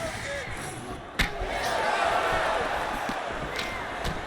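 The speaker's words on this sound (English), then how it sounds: "you can hear that thwack in the nosebleeds as the kickboxer lands a body kick" A kickboxer's body kick lands with a sharp thwack during a UFC 5 light heavyweight bout between Carlos Ulberg and Johnny Walker, one loud single impact rising over a steady roaring arena crowd, with a few fainter knocks after.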